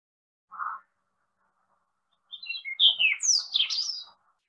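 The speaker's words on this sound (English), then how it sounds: "That's right, it's the robin." A robin singing in woodland: one short call note, a pause, then a quick run of high warbling, twittering phrases, clear against an otherwise quiet background.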